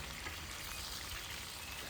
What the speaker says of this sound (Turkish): Kalan kabağın da hepsini aynı şekilde kızartarak hazırlıyorum.